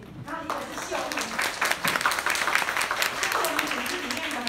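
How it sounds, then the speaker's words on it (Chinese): Audience at a training session clapping, a dense patter of hand claps sustained for several seconds with voices talking over it. "我要借大家的手掌声鼓励他们"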